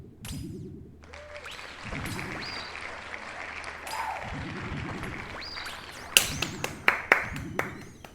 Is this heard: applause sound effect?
yes